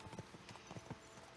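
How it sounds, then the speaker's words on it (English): Horse hooves clip-clopping in the video game Kingdom Come Deliverance 2, a quick, even run of quiet hoof strikes at a trotting pace, close and soft. "Let's really spur these horses on, eh?"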